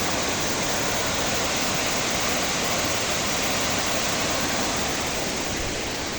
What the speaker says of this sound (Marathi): निसर्गाच्या मधी हा धबधबा आहे झुलझुल पाणी वाहत आहे